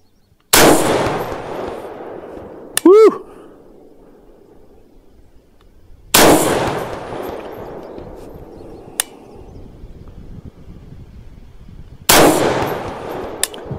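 Three loud rifle shots from a CMMG Resolute 300 in 6mm ARC at an outdoor range, spaced about six seconds apart, each with a sharp crack and a long rolling echo, and a faint metallic ping heard after the first shot.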